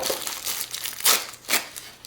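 Plastic packaging from a Hasbro Star Wars L0-LA59 animatronic droid toy crinkles up close, with a steady soft rustle broken by two louder crumpling bursts near the end.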